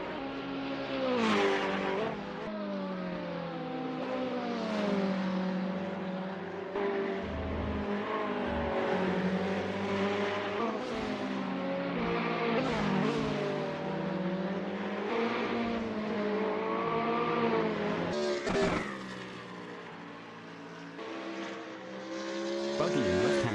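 GT3 race cars, including a Ferrari 488 GT3, racing at Lime Rock in a racing video game, engines revving and shifting up and down continuously, with tire squeal and passing cars, loud and close.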